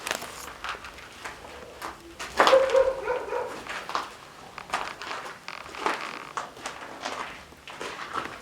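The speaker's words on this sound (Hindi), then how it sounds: "अब यहाँ ये कुत्ता भौंके ना" Outdoors, a dog gives several scattered barks and yips mixed with whimpers, at moderate distance, with rustling noise in between and no voices.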